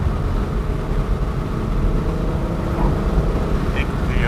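A Ford Mustang's exhaust drones low and steady from inside the car while driving, a constant rumble with road noise throughout.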